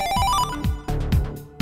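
Phone text-message alert from the video game River City Girls: a bright rising ringtone-like chime sounds alone, followed by a few short electronic tones over a low game backdrop.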